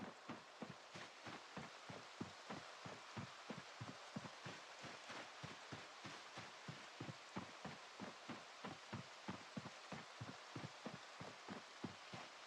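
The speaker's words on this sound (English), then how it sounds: "Oh, rain. Nice." Rain patters steadily in a video game, a soft, dense hiss with evenly spaced light knocks running throughout, faint and uninterrupted, with no talking.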